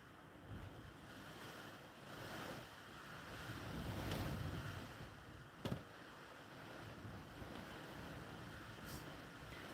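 Overflowing water tank at night, a steady broad rushing torrent of water mixed with wind noise, continuous and fairly faint, with one brief sharp knock midway and no talk.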